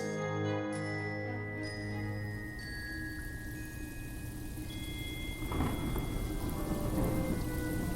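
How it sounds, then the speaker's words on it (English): A thunderstorm sound effect for a fantasy audio drama, with steady heavy rain and a long rolling rumble of thunder that swells toward the end. No one speaks. "Indefinitely wreathed in thunderstorms thanks to the lightning of Magus bolters"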